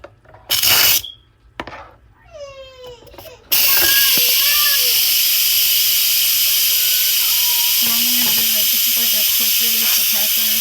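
An Instant Pot releases its steam pressure after cooking a frozen turkey breast. A sudden loud, steady hiss bursts out and runs on without a break. Brief squeaky sounds come before it, and faint tonal beeps sound over the rushing steam.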